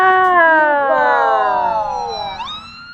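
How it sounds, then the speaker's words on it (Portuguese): Ambulances stuck in traffic with sirens on give a loud, close electronic wail that sweeps downward, then a quick rising yelp near the end. "Em plano aberto, ambulâncias paradas no trânsito, com sirenes ligadas."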